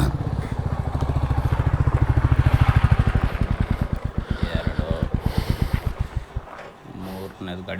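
An off-road vehicle engine labouring up a hill, a steady loud throbbing exhaust pulse near the listener that rises, then thins and fades away toward the end, with a person talking over it.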